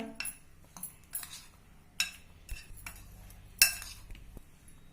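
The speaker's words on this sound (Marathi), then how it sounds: "मसाला आपण छान सगळीकडे मिक्स करून घेऊया" Close, sharp clinks and scrapes of a utensil against a dish as masala is mixed into red carrot pickle, in irregular strokes, quiet between hits, with no talking.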